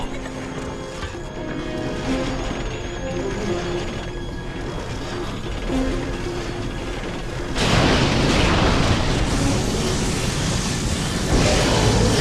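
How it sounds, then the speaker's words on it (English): Ion cannons firing in Ratchet & Clank: A Crack in Time, a deep booming barrage that swells into a dense, roaring blast of heavy impacts after a lower rumbling buildup. "Ion cannons armed. Firing."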